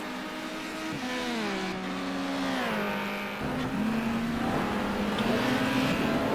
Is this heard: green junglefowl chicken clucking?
no